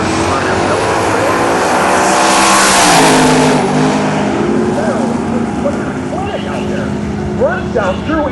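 A drag radial race car makes a loud full-throttle run at a drag strip, its engine roar building, peaking and then fading with the distance, while an announcer talks over it.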